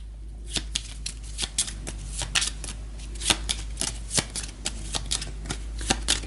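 A deck of cards from the board game Gaia Project gets a quick shuffle, a run of crisp, close riffling snaps and flicks in uneven bursts, quiet and with no talk over them.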